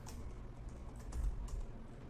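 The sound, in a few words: typing a password on a computer keyboard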